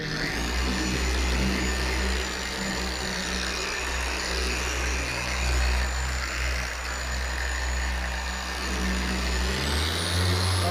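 A car polisher runs steadily at speed 3 on a car's finish during a polish and wax application, a loud continuous motor drone with a high whine that rises near the end.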